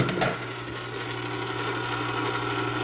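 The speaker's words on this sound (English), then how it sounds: "Our ice cream machine is turning." An ice cream machine churns lime ice mix with a continuous mechanical whir and hum, heard alone and steady throughout.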